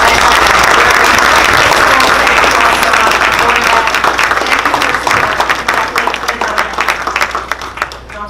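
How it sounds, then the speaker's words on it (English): A crowd at a school board of education meeting gives teacher leaders a long round of applause, loud and dense at first, then thinning out into scattered claps. "give a big round of applause to our teacher leaders"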